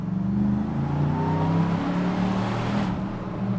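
A Nissan Y62 Patrol V8 fitted with a Harrop supercharger accelerates hard, its deep engine note rising steadily in pitch as the revs build, heard close from inside the vehicle.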